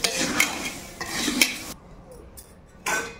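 A spoon clatters and scrapes against a pan as poha chivda is tossed with turmeric, in short bursts with a quiet pause before a final scrape.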